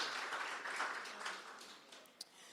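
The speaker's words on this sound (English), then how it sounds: "If we could just give a round of applause to the North Dade Library." A small crowd at a Miami-Dade budget town hall in the North Dade Library gives a short round of applause, a soft patter of clapping that fades within a few seconds.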